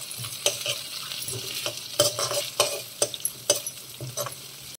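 Chillies and curry leaves frying in oil in a pan with onions, crackling and sizzling close up, with irregular sharp pops and stirring scrapes over a low steady hiss.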